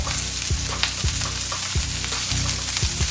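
Onions caramelize in a pan over medium heat, a loud continuous sizzle with regular scraping strokes of a utensil about every half second, close up and alone.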